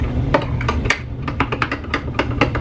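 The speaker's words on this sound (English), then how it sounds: "That's it. Stir it up." A ketchup and mayonnaise sauce being stirred in a bowl, heard as quick, irregular clinks and taps of a utensil against the bowl over a low background hum, close and with no talk.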